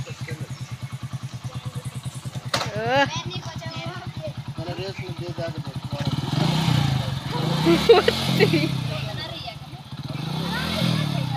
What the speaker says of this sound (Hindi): अभी मम्मी जा रही है बाइक चलाने